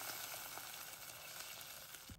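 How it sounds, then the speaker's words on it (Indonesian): Garlic sautéed in a pan sizzles loudly and steadily as water is poured in, a dense hissing frying sound with a faint stir near the end. "tuangkan air secukupnya"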